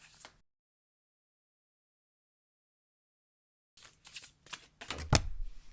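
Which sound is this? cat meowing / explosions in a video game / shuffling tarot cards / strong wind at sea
shuffling tarot cards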